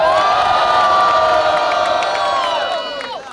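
A large crowd at a rap battle cheers and shouts loudly and continuously, with high whoops and children's voices, fading slightly at the end.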